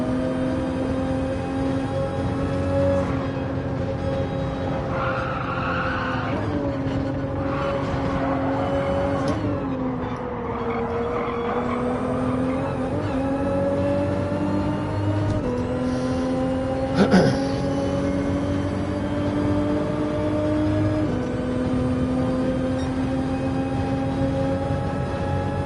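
Subaru Impreza in race trim droning steadily at close range in Gran Turismo 7 at Sardegna, pitch rising and falling through gear changes, with a brief sharp spike near the middle.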